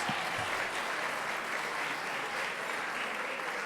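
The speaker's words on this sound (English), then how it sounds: "Can we give a big round of applause for our musician?" Audience applause for a musician at a motivational business keynote, a steady wash of many hands clapping that holds evenly throughout without pause.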